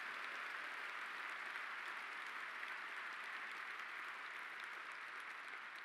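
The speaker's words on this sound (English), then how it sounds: "So just want to make a big, big round of applause for our staff for a great class." A crowd applauds for the staff at a recruiting wrap-up event, a steady, even wash of many hands clapping that holds for several seconds, heard alone without speech.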